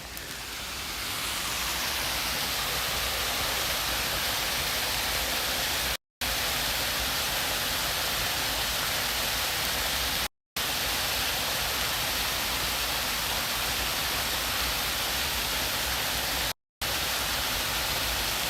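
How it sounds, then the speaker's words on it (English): A waterfall in snowy Prospect Park roars as a loud, steady broadband rush of falling water that holds constant throughout, close and unbroken apart from a few tiny dropouts. "Our next waterfall."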